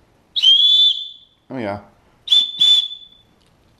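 Small pocket survival kit whistle blown three times: one long shrill blast, then two shorter blasts close together, loud and near, with a brief spoken remark between them.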